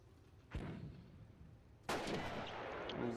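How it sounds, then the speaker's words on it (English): Two sharp sniper rifle shots in Company of Heroes, a World War II strategy game, the first at moderate distance and the second louder and closer, each cracking out of a low battlefield murmur and leaving a lingering echoing tail. "sniper getting a shot off"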